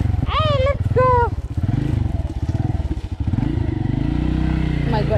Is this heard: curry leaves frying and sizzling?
no